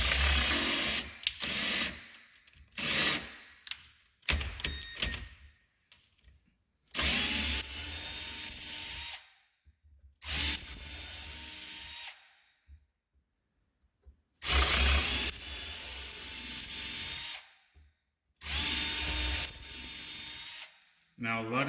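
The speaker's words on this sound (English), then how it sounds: "Grab my bigger drill bit right here." A power drill with a larger bit bores a hole in a cabinet for a handle, running in about eight separate loud bursts of varying length, with silent pauses between them.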